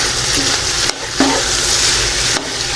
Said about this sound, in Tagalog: Ilagay po ganyan. Haluin po.